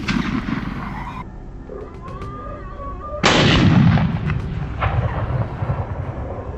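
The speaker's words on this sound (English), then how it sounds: "As soon as we reached the ideal ambush position, I immediately opened fire and took down the first wild boar" Rifles firing at wild boars on farmland, a couple of sharp, loud close shots with echoing booms that trail off, separated by brief quieter gaps.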